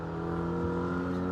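The Black Falcon Team Bilstein race car, number 503, drones past at the 12h Nürburgring race, its engine a steady, harmonic-rich roar held at a moderate distance throughout the short stretch.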